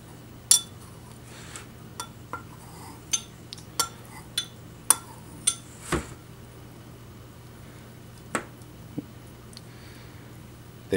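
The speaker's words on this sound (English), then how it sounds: "it's really easy to just cut it up with a knife" A knife slices through a block of set Repashy Igapó Explorer gel fish food, portioning it on a hard surface with a dozen or so sharp, scattered clicks and taps, close and fairly quiet, with no talking.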